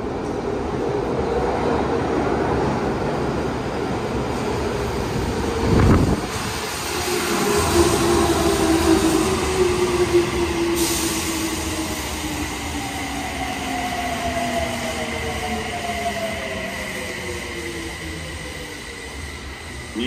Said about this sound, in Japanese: 2番線に各駅停車高島平行きが6両編成で到着します。